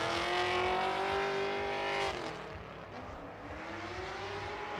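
Drift car at a Formula Drift night event, engine screaming at high revs with tire squeal, then dropping off and coming back as a fainter, more distant revving whine.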